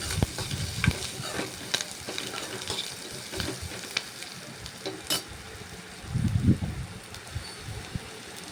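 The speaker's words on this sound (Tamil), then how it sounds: "வெங்காயமும் பூண்டும் நல்லா வதங்கணும்" Onions, garlic and green chillies fry softly in a pan while being stirred, giving a faint, continuous sizzle broken by scraping and stirring knocks.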